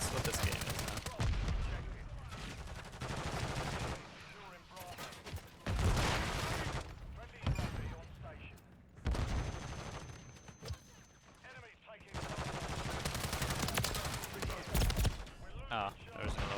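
Gunshots crack in repeated bursts and volleys in the video game Lethal Company, with short pauses between, while a person talks throughout.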